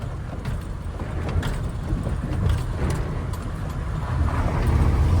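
A loaded KamAZ truck carrying soybeans rumbles steadily over a badly potholed road, with a continuous low engine drone and uneven jolts and rattles throughout.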